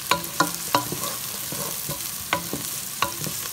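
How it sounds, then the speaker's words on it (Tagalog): A spoon scrapes and clinks against a pan as a food mixture is stirred, giving sharp regular taps over a soft, steady sizzle. "Tapos, guys, haluin na natin."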